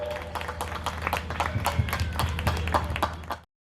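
Enthusiastic applause for the teachers at a school Diwali Utsav celebration, steady crowd clapping with sharp individual claps over a low hum, filling the hall for several seconds before stopping abruptly.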